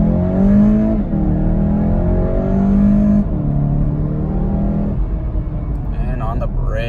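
A 2019 Volkswagen Golf GTI Rabbit Edition in sport mode accelerates hard from a rolling start, its engine note climbing steadily in pitch through the gears, loud and close from inside the cabin with brief dips at each shift.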